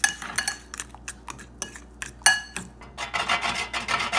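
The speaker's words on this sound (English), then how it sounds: "I just keep mixing and crush it some more" Banana fritter batter with brown sugar being mixed and mashed in a bowl, a series of close scraping and clinking strokes from a utensil against the dish, irregular at first and then denser and steadier toward the end.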